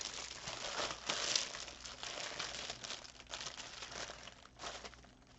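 Rummaging through a bag of stickers and napkins: continuous close crinkling and rustling of plastic and paper, soft and steady throughout with small louder crunches.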